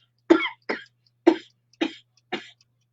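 Five sharp coughs in a row, close and loud, evenly spaced with brief silences between them.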